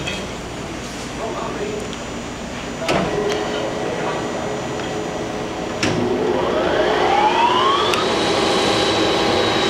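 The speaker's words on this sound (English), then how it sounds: "So let's turn the magnet on so we can start the spindle." A Blanchard 11-20 surface grinder switches on, its magnet engaging with a thump before the spindle starts and winds up in a steady rising whine over a constant machine hum, fairly close and moderately loud.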